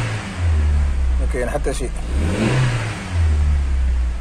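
A Suzuki SX4 engine that has just had its head gasket replaced, revved hard in two long rising pushes with a dip to idle between them, loud and close, while someone speaks over it.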